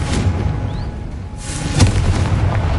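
Confringo and Bombarda spell explosions in the Hogwarts Legacy game sound as loud, dense booms over a continuous rumble, with one sharper blast standing out near the end.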